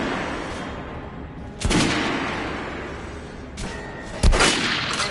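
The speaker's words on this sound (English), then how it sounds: "head over to my range and try out those guns" Gunfire at a shooting range in the video game Metro Redux, two heavy close shots a couple of seconds apart, each followed by a lingering rumbling tail over a steady noisy background.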